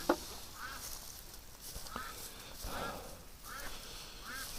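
A domestic duck quacks faintly several times in a loose, irregular series, heard at a moderate distance over low background noise.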